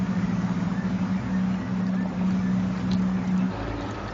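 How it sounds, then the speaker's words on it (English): German StuG IV tank engines drone in the Company of Heroes video game, a steady low rumbling hum that holds evenly for several seconds before easing off, with no voices. "using his speakers or his headset to hear the Stug 4s unwieldy engines gearing up into action there"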